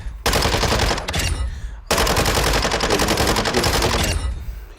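Mini Bak submachine gun firing in Warzone 2.0: two long, loud, rapid-fire bursts with a brief pause between them, dense and continuous.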